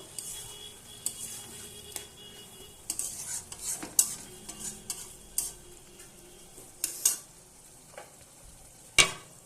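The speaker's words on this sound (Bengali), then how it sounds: "এবার আমি ভালোভাবে নেড়ে নেব" Fish head curry being stirred in a pot with a utensil, making repeated scraping clinks and soft wet stirring sounds at an irregular pace, with a faint sizzle underneath and no talking.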